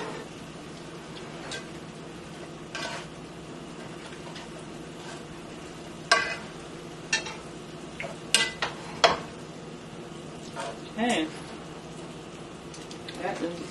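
Pasta stirred into one-pan chicken and vegetables, with soft scraping and clinks of a utensil against the pan, a few louder knocks, under a steady sizzle with quiet talk.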